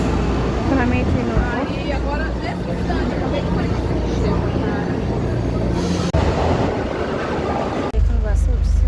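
Riding a crowded metro train: a steady low rumble and rattle of the carriage runs throughout, with people's voices talking over it and a brief jolt near the end.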